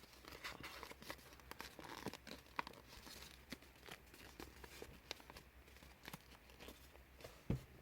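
Paper being folded into an origami sphinx, quiet close crinkling and creasing with soft taps and rustles in an irregular rhythm, heard alone without talk.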